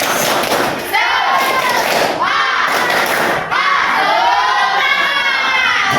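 A classroom of students doing a rhythmic spirit clap cheer, with loud shouted chanting voices, bursts of group clapping and thumps in repeated phrases, close and energetic.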